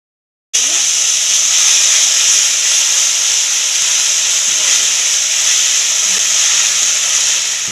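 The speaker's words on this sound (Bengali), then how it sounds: "তেল গরম হয়ে গেছে কালো জিরা দিয়ে দিব শুকনো লঙ্কা তেজপাতা জিরা আদা বেটে রেখেছিলাম দিয়ে দিব" Nigella seeds, dried chilli, bay leaf, cumin and ginger paste drop into hot oil with a sudden loud, continuous hissing sizzle, preparing a prawn malai curry; faint stirring clinks sound underneath.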